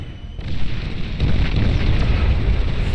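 A nuclear bomber explodes in the strategy game Beyond All Reason, a loud deep boom that swells at the start and then holds as a heavy, sustained rumbling roar for several seconds.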